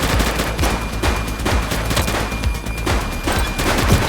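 Rapid gunfire from a firefight in the police video game The Precinct: dense bursts of shots, several weapons firing at once, loud and close throughout with no pause.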